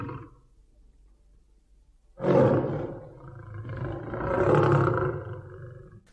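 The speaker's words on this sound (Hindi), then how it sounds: "हम आपको सिर्फ बाघ की दहाड़ सुना रहे हैं" A tiger's roar plays after a short near-silent pause. It is one deep, loud, rumbling call that swells and then trails off into a long growling exhale. No voices are heard.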